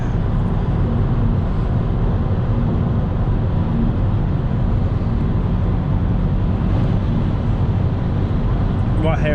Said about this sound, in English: You might hear a little bit more wind noise than your car if you've got one of these, but that's purely because I'm running the Climb Air wind deflectors